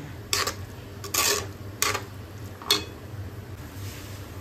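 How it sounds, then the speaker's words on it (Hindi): Paneer being fried and stirred in a pan, with a few separate scraping clinks of a spoon against the metal over a steady low background. "पहले पनीर को अच्छे से हम फ्राई कर लेते हैं।"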